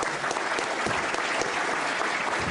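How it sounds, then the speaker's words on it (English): A forum audience gives steady, fairly faint applause for a speaker, a continuous patter of many hands with no voices on top. "Let's have a round of applause for Mr. Snyder."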